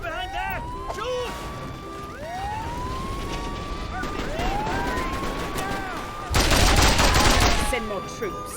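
Gunfire bursts through the action of the video game Mercenaries 2: World in Flames, mixed with rising and falling siren wails and loud explosive blasts near the end, while voices shout over the chaos.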